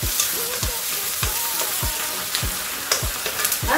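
Stir-fried tofu and vegetables sizzle steadily in a pan after the cooking liquid goes in, with a crackling, frying hiss and regular scraping stirs about every half second, close and alone.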